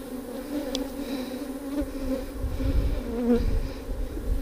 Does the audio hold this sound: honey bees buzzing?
yes